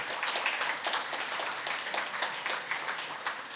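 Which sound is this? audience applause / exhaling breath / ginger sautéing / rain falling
audience applause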